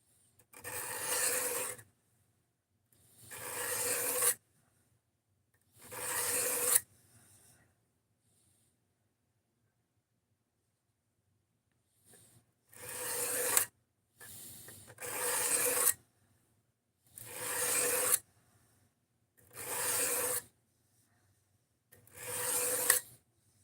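A Rex 121 steel knife edge is sharpened in eight loud rasping strokes, three close together, then a long silent pause, then five more in steady rhythm, with nothing else heard.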